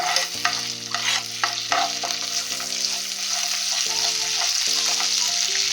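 Ginger garlic paste sizzling in butter in a pan for pav bhaji, a steady close frying hiss with soft stirring scrapes, played under a light musical backing with no talking.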